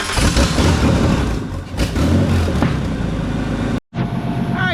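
An old vehicle engine running without exhaust, warming through a heat cycle, gives a loud raw continuous clatter and roar with uneven surges, briefly cutting out near the end before resuming.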